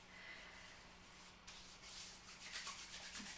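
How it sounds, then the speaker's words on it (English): Bare hands rub trauma balm into skin and forearms, a soft, close, continuous swishing that swells slightly toward the end, with no voices. "I'm just going to pull up my sleeves and rub the rest of that in there"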